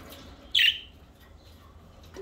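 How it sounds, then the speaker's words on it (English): A pet bird gives a single sharp, bright chirp, close and fairly loud against a quiet indoor background, followed by a faint softer call near the end. "I'm talking to birds."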